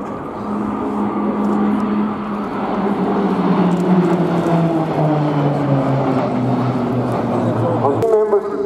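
Pilatus PC-9M aerobatic aircraft of the Croatian Air Force team passing in a crossover at an air show, a loud propeller drone with a falling pitch as it sweeps by, and a commentator talking over it.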